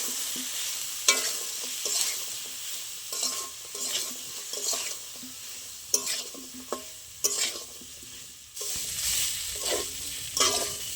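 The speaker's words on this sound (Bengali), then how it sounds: "এবার সব ভালো করে একটু কষে নেবো" Potatoes and spices sauté in a pan with a splash of water, a spatula scraping and stirring in rhythmic strokes over a steady sizzle, close and clear.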